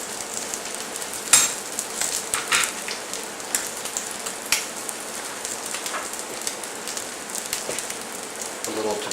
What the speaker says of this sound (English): After the egg's cooked on the top side, you very carefully scoop it up and flip it one more time.